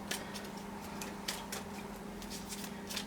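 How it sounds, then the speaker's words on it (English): Pre-Raphaelite tarot cards being shuffled by hand, a quiet run of irregular papery flicks and snaps over a steady low background hum, with no voice present. "I'm shuffling away for you"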